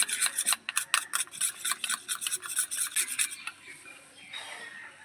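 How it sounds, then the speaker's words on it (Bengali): Coconut oil mixture being stirred for a homemade skin pack, giving a rapid series of scraping, rubbing strokes up close, loud and rhythmic, then slowing and fading near the end. "এবারে এই দুটো ভালো করে মিক্স করে নেব।"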